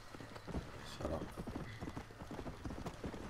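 Horse hooves clip-clop steadily in Red Dead Redemption, a quiet, even rhythm of soft thuds running throughout, with faint talk in the background.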